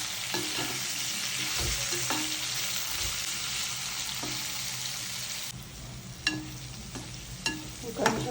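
Bitter gourd frying in a pan, a steady close sizzle broken by scraping stirs and occasional louder clinks of the spatula.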